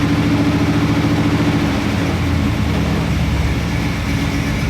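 A Chevy small block 350 V8 with a misfire runs close and loud, a dense rumbling drone that starts a little rough and evens out as the revs change between roughly 1,200 and over 2,000 rpm.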